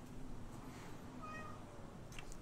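A cat meows a few times at a moderate level, with faint tonal cries over a steady low background hum.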